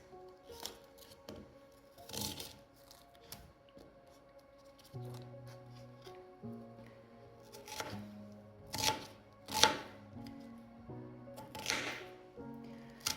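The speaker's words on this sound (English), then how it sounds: "I am slicing my onion into 2 and using the smaller part for mixing with my omelette" A knife cuts an onion in two on a board, giving a few separate crisp slicing and tapping sounds spaced out over soft background music.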